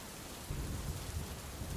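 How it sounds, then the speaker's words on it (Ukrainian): A thunderstorm: heavy rain hisses continuously while a low, rumbling roll of thunder builds in after a moment and carries on beneath the downpour. "Як ми називаємо такий дощ, який супроводжується громом та блискавкою?"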